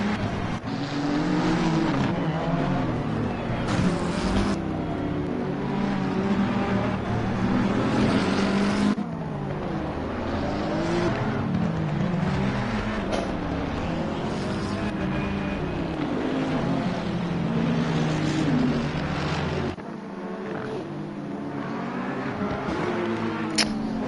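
Race car engines drone continuously during a formation lap at Misano in a racing video game, several cars revving and shifting together with rising and falling pitch as they pass, steady and loud throughout.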